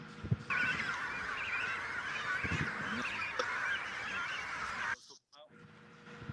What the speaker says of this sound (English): These are the Falkland steamer ducks, or flightless ducks.